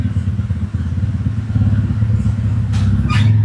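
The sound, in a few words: big motorcycle (moge) passing by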